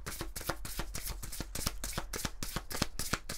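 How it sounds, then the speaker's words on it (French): Oracle cards, from the Éclat de lumière deck by Émilie Pérez, being shuffled in the hands with a rapid, steady riffle of soft flicks, close and alone with no talk. "on va prendre l'oracle Éclat de lumière d'Émilie Pérez. J'ai envie de prendre quelques cartes"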